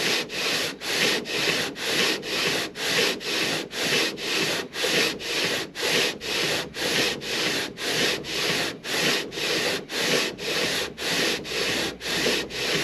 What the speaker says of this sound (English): when I'm going back and forth like this, I'm actually technically sanding twice in the middle